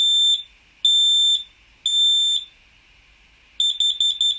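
Smoke alarm sounding its fire warning pattern, with a voice warning: three shrill, evenly spaced high beeps, then a quicker cluster of rapid beeps, loud and close with silence between.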